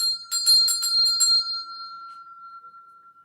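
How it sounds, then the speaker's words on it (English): A small bell rung several times in quick succession, bright metallic strikes followed by a long, clear ringing tone that slowly fades out, close and alone. "Then we're gonna ring the bell."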